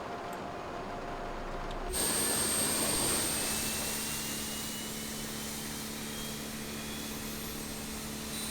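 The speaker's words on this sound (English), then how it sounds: "so now we should be able to start the aircraft on number 2 engine" An Embraer E175 jet engine, the number 2 engine, spools up in the Flight Sim Studio simulator. A steady broadband roar with a thin high whine rises suddenly and then holds at a constant level.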